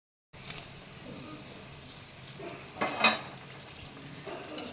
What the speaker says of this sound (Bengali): এইভাবে আমি আস্তে আস্তে সমস্ত কচুরিগুলো ভেজে তুলে নেব।